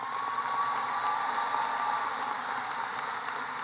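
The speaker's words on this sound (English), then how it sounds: "Please join me in applauding our cum laude recipients." Steady audience applause at a high school graduation ceremony, dense and continuous clapping from a large crowd filling a hall, honoring cum laude graduates.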